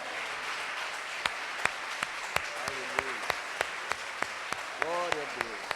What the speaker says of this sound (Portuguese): Vamos dar um aplauso para Jesus